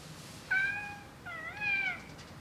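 A pet cat named Tuco gives two clear, close meows for attention, the second longer and rising, in an otherwise quiet indoor room.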